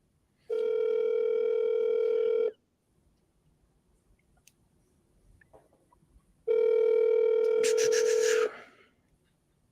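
Outgoing phone call ringback tone: two long steady electronic rings about four seconds apart, each about two seconds long, loud and clear with quiet gaps between them.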